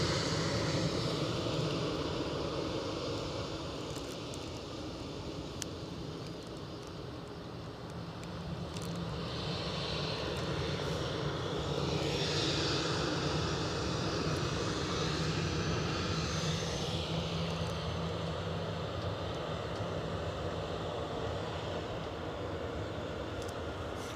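Jet airliner engines roar steadily at an airport as a JetBlue plane rounds the taxiway bend, a continuous, fairly distant rumble and whine holding for the whole stretch with no voices.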